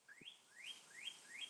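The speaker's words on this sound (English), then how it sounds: "this bird loud as hell" A bird chirps four times in a quick, evenly spaced series of rising tweets, faint and somewhat distant, with a soft low knock near the start; no talking.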